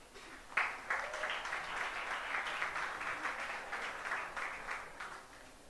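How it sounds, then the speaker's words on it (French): An audience claps steadily for several seconds, a dense, even wash of applause with no voices on top. "On applaudit Olifrana."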